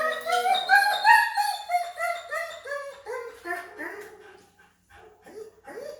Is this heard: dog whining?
yes